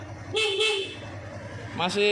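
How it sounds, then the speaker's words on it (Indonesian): Two short honks from a used motorcycle's horn, a longer beep then a brief one, with a voice talking briefly near the end. "nyaring ya, masih keras ya untuk klakson ya"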